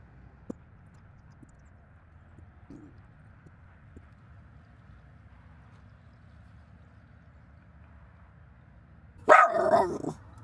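Quiet low background hum for several seconds, then a sudden loud burst of dog barking near the end.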